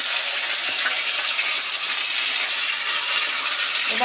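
Tomatoes hit hot oil with cumin seeds for palak paneer, giving a loud, steady, close-up sizzle and crackle that runs unbroken for several seconds with no voice over it.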